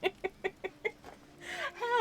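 A hen clucks five times in a quick, even rhythm, close and clear, then lets out a longer, rising squawk.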